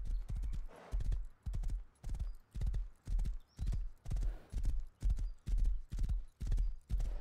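Horse hooves clip-clop in the survival video game Rust, a steady, evenly spaced galloping rhythm of close, muffled thuds that runs throughout.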